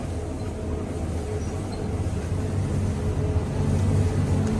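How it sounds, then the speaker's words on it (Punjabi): A tractor engine runs on a Punjabi farm in rain and wind, a steady close rumbling drone that grows slightly louder toward the end, with no voices. "ਟਰੈਕਟਰ ਚਲਾ ਲਾ"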